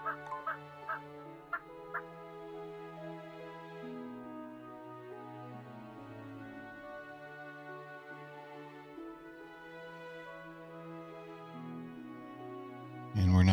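Turkeys gobble in the farming video game Settlement Survival: a few short clucks at the start, then a long, low, wavering gobbling call under faint background music, ending in a sudden loud thump.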